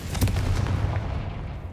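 A Confringo spell blast in the Hogwarts Legacy video game, a loud booming burst with a deep rumbling low end that decays over under two seconds.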